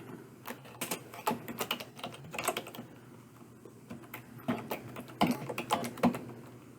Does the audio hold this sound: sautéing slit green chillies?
no